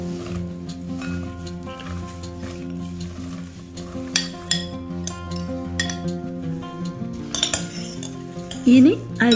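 Chopped mixed fruits for a hot, sweet and sour kadu pickle being stirred with a spoon, with repeated clinks of metal against the container and a faint sizzle-like hiss, close and steady with no talking.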